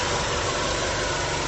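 A Honda VFR1200 motorcycle engine idles steadily and close up, giving a continuous, even rumble with light vibration and no talk over it.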